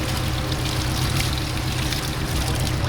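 Water is poured over exhaust heat wrap for a Bugeye Subaru STI, a continuous splashing trickle lasting a few seconds, close and fairly loud.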